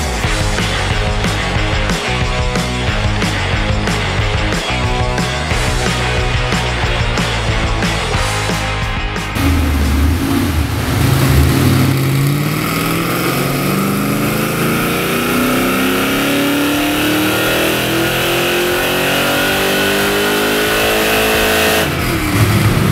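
A Ford 3-valve 4.6 V8 runs on a dyno. It pulses roughly at first, then climbs into a long, loud, rising rev that holds near the top before cutting off.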